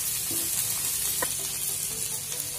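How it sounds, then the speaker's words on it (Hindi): Golden-brown onions and cashews fry for shahi paneer, a constant close sizzle with occasional soft scrapes and knocks as they are stirred in the pan, no voices. "अब हम इसमें डाल लेंगे काजू और इन्हें भी अच्छे से मिक्स कर लेंगे"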